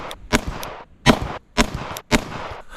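Four sharp pistol shots from a Sig X Macro loaded with Silver Tip rounds fire at a target in a steady, evenly spaced cadence, each one loud and close with a brief decaying tail.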